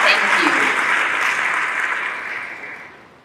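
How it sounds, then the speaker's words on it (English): A school convocation audience applauds in a full, dense burst of clapping that gradually thins and fades over a few seconds. "Let's give them a round of applause."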